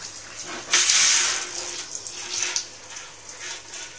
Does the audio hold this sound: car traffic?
no